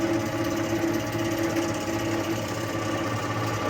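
A mini oil press motor runs at a steady drone with a constant hum and a faint mechanical rattle, loud and close, with no talking.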